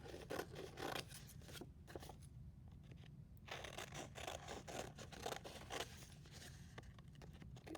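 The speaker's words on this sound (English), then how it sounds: "I'm just going to trim, leaving a little bit of that yellow border" Scissors trimming freehand around paper to leave a yellow border, close-up repeated snipping and rasping cuts in quick bursts with brief pauses between, fairly quiet and alone.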